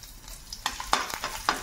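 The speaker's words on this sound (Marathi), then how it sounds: "याच्यामध्ये लसूण टाकून घेणार आहोत आपण।" Garlic sizzles in hot oil in a wok for veg Hakka noodles, a soft frying hiss broken by a few sharp clacks of a spatula stirring, with no talking.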